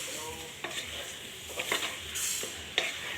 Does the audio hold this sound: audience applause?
no